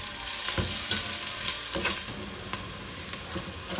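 Onions that have turned golden brown fry with brown sugar in a pan, giving a steady close sizzle with scraping stirs and clicks from the utensil, and no voices.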